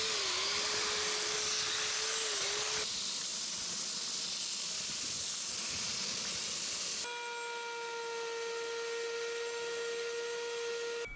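A power grinder whines steadily through cured resin and foam on a wood-turned pencil donut, a loud continuous high-pitched hiss whose tone shifts partway as the tool moves, no talking.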